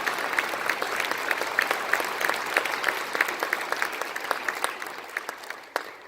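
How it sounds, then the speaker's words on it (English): Concert audience applause for a college concert band, many people clapping with distinct individual claps audible, steady and moderately close, easing slightly toward the end. "Please give a round of applause to all the staff and faculty in our groups here"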